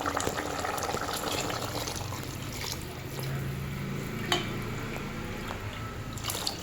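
Horse gram soup (ulava charu) poured into a pan for a traditional village-style drumstick curry, a soft continuous liquid pour and gentle sizzling wash that runs steadily throughout at moderate distance.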